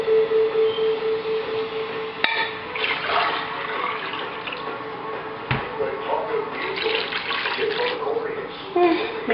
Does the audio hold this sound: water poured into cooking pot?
yes